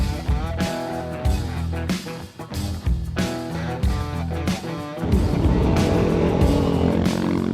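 A Honda NC motorcycle rides over a potholed road, its engine rumbling continuously up close with repeated jolts and surges in tone, growing louder and busier toward the end.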